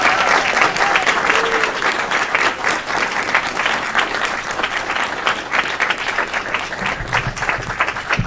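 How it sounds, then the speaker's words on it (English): Sustained applause from an audience at a volunteer of the year award ceremony, dense steady clapping filling the whole stretch at a fairly loud, even level. "Let's give him a round of applause."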